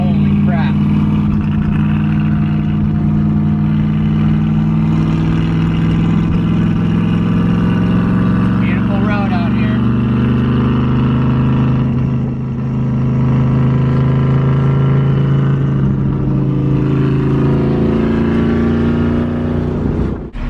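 A car engine drones loudly and steadily at fairly high revs while descending a mountain road, with a smooth, constant tone and little change in pitch throughout.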